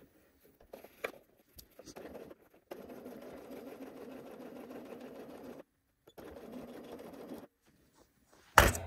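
A sewing machine stitches a gusset seam in short bursts, running slowly with a steady whirring hum and brief pauses between runs, close up and moderately quiet.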